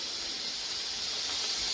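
Khoya hits hot ghee in a pan for Lahori gajrela, giving a loud, steady close-up hiss of sizzling with no break.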